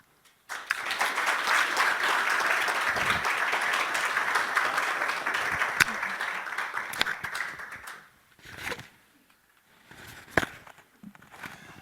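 Sustained audience applause for contestants at the UT Austin 2019 3MT final round, a dense, loud clapping wash lasting several seconds, then tapering into a few scattered claps and brief renewed bursts.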